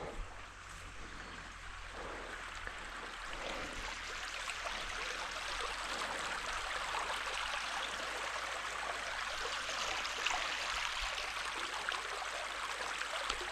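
A steady, gentle rush of flowing creek water, continuous and fairly quiet, with no voices.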